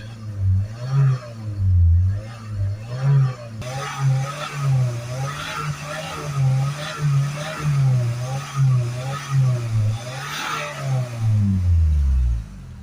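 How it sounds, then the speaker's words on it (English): A van engine revs repeatedly to clear DPF fluid, rising and falling in bursts close by, with a loud drawn-out rev near the end. "I'm just going to give it a few revs now"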